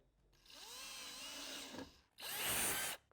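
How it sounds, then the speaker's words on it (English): A power drill with a 1/4 inch bit whines through two bursts of drilling holes for doors on a Kawasaki KRX4 1000, the first longer and steady, the second shorter and louder, pitch rising as the motor spins up. "drill out your marks."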